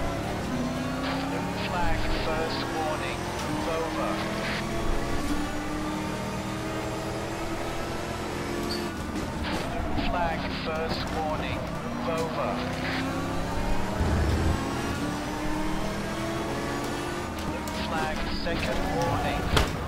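Race car engines at Imola in the Race07 racing game roar continuously, loud and close, with revs rising and falling through gear changes and other cars passing. Someone talks over the engine noise throughout.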